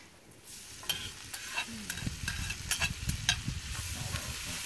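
Hominy and bacon sizzle and crackle in a hot pan, with scraping and stirring clicks throughout, fairly close and steady.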